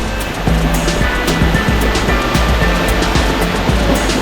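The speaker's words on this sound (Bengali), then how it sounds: "তো আমি যাচ্ছি ঝর্ণার কাছে, এই হলো শামুক ঝর্ণা।" Shamuk waterfall near Alikadam roars with a steady, loud wash of rushing water, punctuated by faint rhythmic knocks and thumps nearby.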